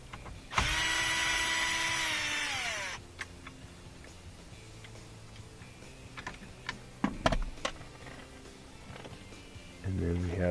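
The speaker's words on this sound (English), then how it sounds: "9/32 bit we're going to use to remove a couple of these screws" A power drill fitted with a 9/32 bit backs out screws on a GM truck heater and AC control panel, giving one loud whirring burst that winds down, then small clicks and handling noises, and a second short whir at the end.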